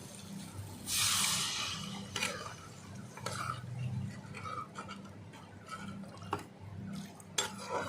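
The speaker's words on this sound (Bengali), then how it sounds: "এবার অল্প করে দিয়ে দেব জল" Water goes into a pan of fried spice masala, a short splashing burst followed by quiet bubbling, clinks of utensils against the pan and occasional stirring, close and fairly soft.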